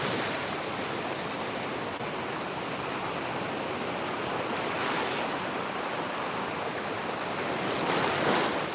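Ocean surf at Delray Beach, a steady loud wash of breaking waves heard from in the water, continuous with gentle swells and no talk.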